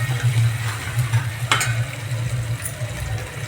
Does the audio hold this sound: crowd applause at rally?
no